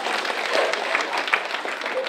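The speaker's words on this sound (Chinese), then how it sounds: "给他个掌声吧" Audience applause at a political speech event, a dense, steady wash of clapping across the whole stretch with occasional louder claps, heard from within the hall and mixed with faint crowd murmur.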